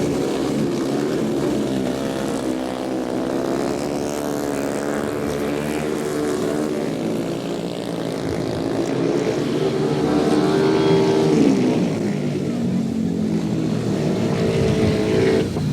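Race cars roar through a heat race at Champion Speedway, a dense sustained engine drone that swells slightly toward the end, loud and continuous with no voices.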